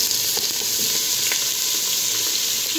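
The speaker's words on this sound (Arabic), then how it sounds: "ونديروا شويه تاع الزيت باش نقلوا هذاك البصل تاعنا مع الكرافس والكابويا" Chopped onion, celery and pumpkin fry in hot oil in a pot, making a dense, loud, unbroken sizzle with faint stirring knocks and no talking.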